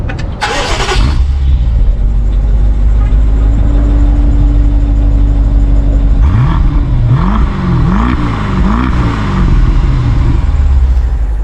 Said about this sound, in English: These are titanium exhaust tips, and it's been tuned by Acropovic, and they make a glorious sound.